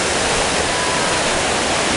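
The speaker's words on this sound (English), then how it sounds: "where you can sit and enjoy the sound of the babbling brook" A babbling brook swollen with spring runoff near a creek-side hiking trail at Naramata Creek Falls, a dense, steady, loud rushing of water filling the whole scene with no voices.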